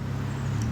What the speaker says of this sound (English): I apologize for the traffic noise in the background